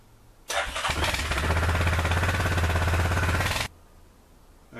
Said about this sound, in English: a cold start on the Yamaha Kodiak.